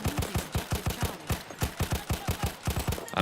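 Short bursts of machine-gun tap fire in Battlefield 1, a rapid, evenly spaced string of sharp close shots, loud and steady throughout with no talking.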